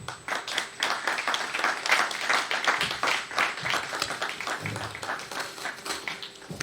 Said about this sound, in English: please help me and welcome with a huge round of applause, William Tetteh